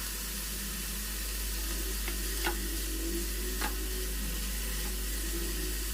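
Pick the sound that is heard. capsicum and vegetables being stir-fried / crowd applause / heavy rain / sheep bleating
capsicum and vegetables being stir-fried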